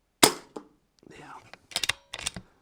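A Brocock Bantam Sniper .25 caliber regulated air rifle fires a single sharp crack, close and loud, followed by a couple of quieter clicks and rustles as handling noises continue.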